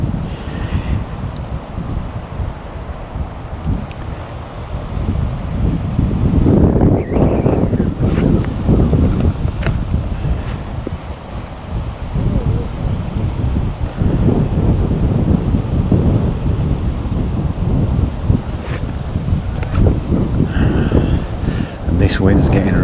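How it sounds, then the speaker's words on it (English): Strong gusting wind buffets the microphone beside a fishing lake at a fishery, a steady broadband rush that swells and eases, loud and close throughout. "This wind's getting really strong now."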